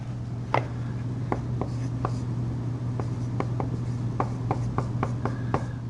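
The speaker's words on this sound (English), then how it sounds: "Let me write it a little bit bigger for you here." Chalk or marker strokes on a board during a calculus lesson on derivatives, a steady run of short sharp scratches and taps in uneven rhythm over a low constant hum, close and clear with no talking.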